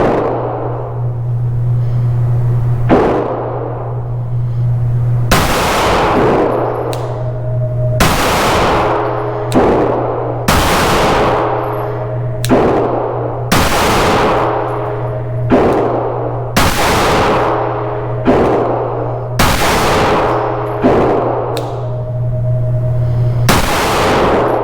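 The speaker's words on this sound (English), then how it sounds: "19C Gen 3, 10 rounds, 7 yards" A Glock 19C Gen 3 compensated pistol fires 115 grain rounds at a range: about ten loud, sharp reports in a steady, evenly spaced string with short pauses between, over constant background hum.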